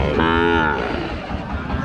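A single drawn-out cow moo sounds loud and close amid the steady crowd murmur of a busy cattle market.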